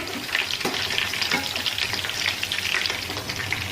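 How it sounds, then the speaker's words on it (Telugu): Chicken leg pieces sizzle in a frying pan, a dense, close hiss full of crackles and spitting bursts that rises and falls steadily, heard alone without speech. "ఇప్పుడు ఇవన్నీ కూడా అలాగే ఫ్రై అవ్వడంతో చూసారు కదండి ఎంత బాగా ఫ్రై అవుతుందో"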